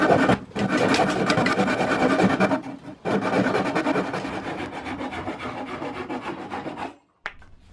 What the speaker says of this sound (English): I'm shaping the whole thing on my belt sander